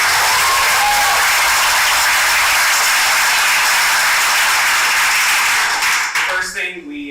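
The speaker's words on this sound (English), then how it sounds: "give yourself a round of applause" Loud, dense applause from an audience at a law school tournament event fills the room steadily for several seconds, then thins and breaks up near the end as a voice begins to speak.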